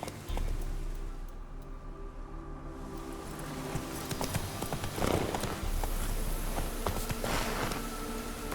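Horse hooves clip-clop steadily on the ground in The Witcher 3, a rhythmic run of close, clear hoofbeats with a brief rider's call and ambient game sounds around it.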